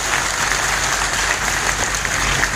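An audience at a felicitation ceremony for successful students of a career academy claps in steady, dense applause, a moderately loud patter that lasts the whole moment.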